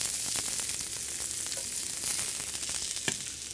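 Coarsely sliced red onion sizzles in extra virgin olive oil in a hot pan, a dense continuous crackle with scattered pops and a few stirring scrapes, close and loud throughout.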